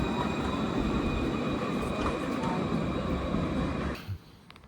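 A Bordeaux tram runs steadily along the rails, a loud continuous rumble with faint tonal whine that fades out near the end, leaving quieter street ambience.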